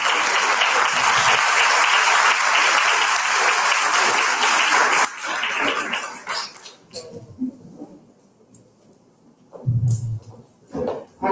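Loud, dense applause fills the hall at the opening of an international seminar, holding steady for about five seconds before thinning out into scattered claps and quieter room noises.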